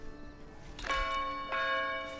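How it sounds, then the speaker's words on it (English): Town bell tolling in the video game Age of Empires 4, two clear strikes about half a second apart with long ringing overtones over soft background game ambience, no talking. "that town bell"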